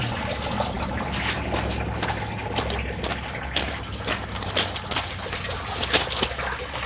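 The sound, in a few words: water flowing from an outer yard drain after rain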